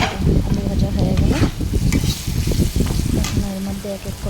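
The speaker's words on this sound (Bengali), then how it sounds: "আলুটা ভালো করে ভাজা হয়ে যাবে" Potatoes fry in spiced oil in a home kitchen pan, giving a steady close sizzle with scraping stir strokes and faint background voices.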